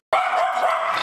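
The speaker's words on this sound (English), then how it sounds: "Why is this dog acting so aggressive?" An aggressive dog gives a single loud, harsh bark or snarling growl that lasts about a second, close up and on its own with no talk.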